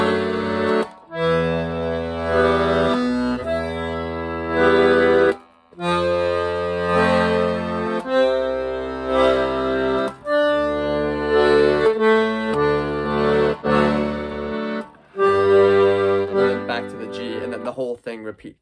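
Accordion plays the left-hand bass and chord part of the Free Bird opening, starting on G, a steady sequence of sustained reedy chords with brief breaks between phrases, solo and close.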